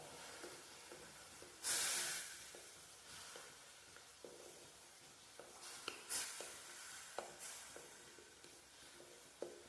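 Jaggery melting in a pan over a low gas flame gives a soft, steady sizzle, broken by occasional stirring scrapes and small pops.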